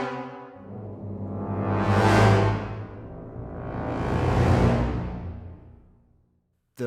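Orchestral short swells from the VSL Big Bang Orchestra library played without marcato: a full ensemble chord swells up and fades back twice in slow waves, rich and sustained, ending in a brief silence.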